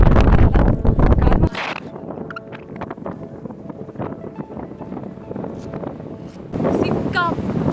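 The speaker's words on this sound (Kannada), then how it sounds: "ಸಿಕ್ಕಾಪಟ್ಟೆ ಗಾಳಿ." Strong wind at a beach in Puducherry buffets the microphone in rumbling, roaring gusts, loudest at the start and end, with people talking over it.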